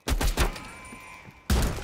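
Rapid bursts of gunfire from a belt-fed gun in the Call of Duty: Cold War campaign, three punchy shots clustered at the start, then a lull of ringing tone before another loud blast.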